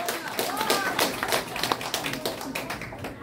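Guests at a calligraphy exhibition in a gallery clap to welcome a speaker, a moderate patter of scattered hand claps with some voices mixed in.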